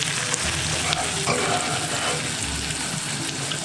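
Pink oyster mushrooms fry in butter in a carbon steel pan with a steady close sizzle and crackle, plus occasional soft stirring scrapes and no speech.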